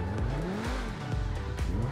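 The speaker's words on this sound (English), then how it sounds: "the engine just sounds absolutely phenomenal." A Progen T20 supercar engine in a video game revs hard, a loud close howl of rising and falling pitch sweeps with quick gear-change dips and tire noise.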